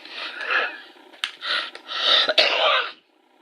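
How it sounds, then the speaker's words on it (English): A person coughs several times in quick bursts, fairly close, with short pauses between the harsh, breathy coughs. "Wife coughing in the background."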